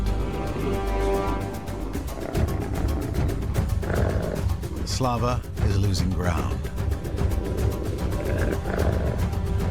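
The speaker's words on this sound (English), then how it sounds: "this is these are wolves now doing this to each other" Wolves fighting in a wildlife documentary, with rough snarls and growls rising in bursts beneath a narrator's voice, joined by a short high yelp midway.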